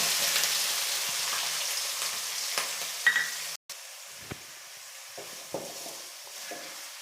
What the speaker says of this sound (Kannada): ಸ್ವಲ್ಪ ಫ್ರೈ ಆದಮೇಲೆ ಈರುಳ್ಳಿ ಹಾಕ್ತಾಯಿದ್ದೀನಿ.